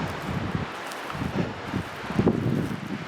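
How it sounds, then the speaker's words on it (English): Gusty wind blows outdoors, with soft rustling that rises and falls in uneven puffs. "Very windy today."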